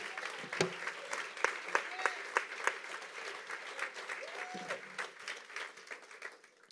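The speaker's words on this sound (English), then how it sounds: "Clap your hands if you're ready to manifest the do." Church congregation clapping hands during a Sunday service, a dense burst of individual claps up front that settles into steady applause, with a preacher's voice and shouts mixed in over it.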